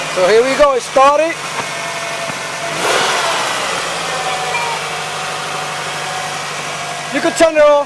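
Steady mid-pitched idle of a 1998 Toyota Camry engine running close by, holding an even drone for several seconds between brief bits of talk at the start and end.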